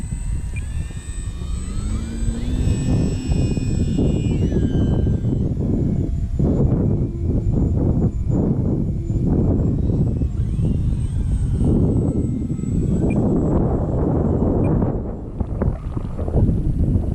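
An Eflite Maule RC airplane flies outdoors in strong wind, its electric motor whining at a shifting pitch as it passes and cuts in and out, under heavy rumbling wind noise on the microphone.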